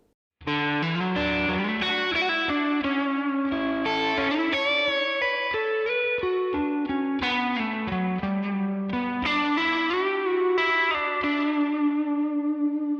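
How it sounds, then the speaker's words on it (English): An electric guitar plays a solo alone, distorted and drenched in chorus and echo, with sustained bending notes and quick melodic runs. "this time I'm going to remove the backing track, so it's just the isolated guitar solo"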